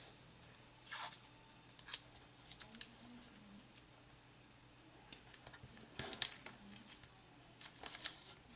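Scissors snipping paper to trim a straight edge while decorating a Filofax personal organiser, quiet short cuts in a few separate bursts with faint handling rustle between them.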